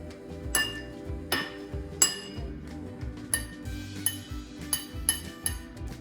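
A metal spoon taps water glasses, producing bright ringing clinks in an uneven, tune-like sequence of single strikes at different pitches, close and clear with lingering resonance.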